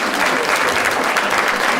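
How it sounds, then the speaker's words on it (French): Audience applause at the close of a French amateur theatre comedy sketch, steady dense clapping from a full room for about two seconds with no voices over it. "On les applaudit tous les trois."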